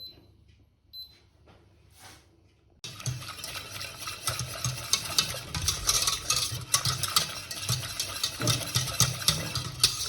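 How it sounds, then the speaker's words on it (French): Butter melting and sizzling in a pan as the base for a béchamel, a quiet start with faint clinks, then a steady crackling sizzle with stirring and scraping noises. "Voilà, je laisse fondre le beurre."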